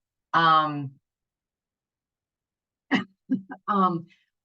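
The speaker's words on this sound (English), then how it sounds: "Excuse me, sorry, I still have a cough." A single raspy cough is followed by a pause, then a few short throat-clearing grunts close to the microphone.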